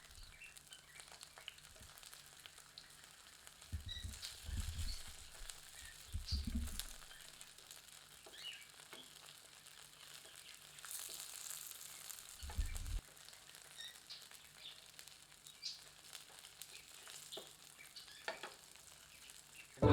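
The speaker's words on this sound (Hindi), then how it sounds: "दो मिनट बाद इन्हें पलटकर दूसरी ओर से भी तल लेते हैं" Sabudana vadas deep-fry in oil over medium heat, a soft, steady sizzle and crackle heard close up, broken by a few dull bumps and clatters from handling the pan.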